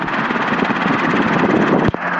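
Helicopter callsign Copter 32 Sierra in flight near Downey, a steady loud rotor and engine drone with dense broadband roar, continuous throughout with a brief dip near the end.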